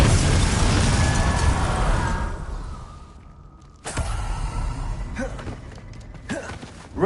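The Expelliarmus spell is cast in Hogwarts Legacy, a loud roaring magical burst that fades over a few seconds, followed by a sharp crackling impact and scattered pops and whooshes of game effects.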